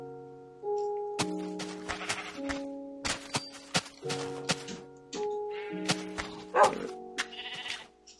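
Sheep in the video game Minecraft bleat repeatedly in short, wavering calls over a steady backdrop of layered game tones, with several bleats close together and one louder near the end.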